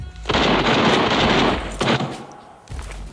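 Heavy bursts of gunfire from a firefight outside in Arena Breakout, a dense sustained volley followed by shorter bursts, loud and close, with no talk over it.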